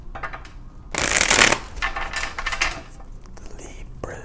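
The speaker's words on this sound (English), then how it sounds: "All right, last shuffle, here we go." Tarot cards riffled and shuffled by hand in a few quick bursts, the loudest near the start, with soft crisp slapping and sliding close up and no talking.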